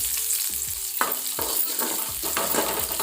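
Onions hiss and sizzle steadily in hot oil, with a few clinks and scrapes of a spoon stirring the pan.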